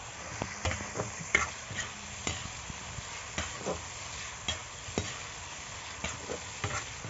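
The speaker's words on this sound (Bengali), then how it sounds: "আলুগুলো দিয়ে একটু নাড়াচাড়া করব ভালো করে, মশলাটার সঙ্গে যেন মেখে যায় আলুটা" Fried potatoes are stirred into a spice masala in a pan, with soft rhythmic scraping strokes about once a second over a low, quiet sizzle; no voices.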